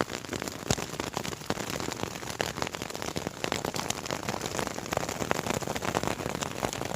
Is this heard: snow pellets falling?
yes